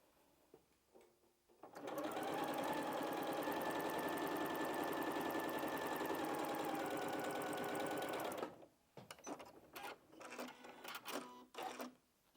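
Sewing machine stitching patchwork pieces with wadding for a quilt-as-you-go cushion, a rapid loud chattering run lasting several seconds, followed by short intermittent bursts and clicks.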